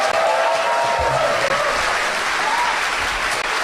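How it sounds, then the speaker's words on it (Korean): Steady, loud applause from an audience at a Korean lecture on the Park Geun-hye family and Yeungnam University, a dense wash of clapping that runs unbroken for the whole stretch. "박수 좀 쳐줘"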